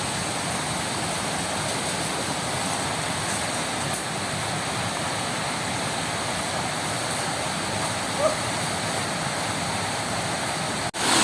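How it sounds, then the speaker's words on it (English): A hill stream rushes steadily downslope, a constant full wash of flowing water heard close and even throughout, with no voices. "we have reached another stream here. Water flowing coming down from the hill."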